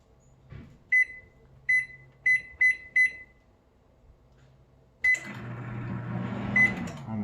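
An oven's control panel beeps five times in a quick, uneven series as the timer is set to 30 and started in a home kitchen while baking brownies from a mix, then a longer tone sounds and the oven fan starts running.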